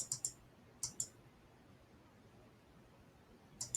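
Computer mouse clicking on captcha image tiles, quiet sharp clicks coming in small pairs and clusters separated by silent pauses, close and faint.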